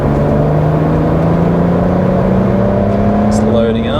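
BMW E90 335i with the turbocharged N54 engine pulling a third-gear roll-on: a loud, close engine drone climbing steadily in pitch as the car accelerates, with road and wind noise underneath.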